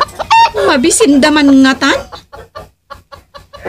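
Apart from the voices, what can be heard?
chickens clucking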